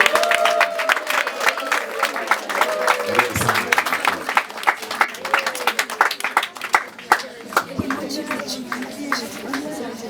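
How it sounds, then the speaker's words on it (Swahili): A crowd claps steadily throughout at a school retreat, dense overlapping applause with some voices mixed in, fairly loud and continuous. "Tumpigie makofi mpaka afike hapa."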